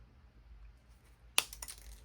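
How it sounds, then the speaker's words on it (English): Wire cutters snip jewelry wire for earrings: one sharp, close click against near silence, followed by a couple of faint small taps. "Come over with my wire cutters."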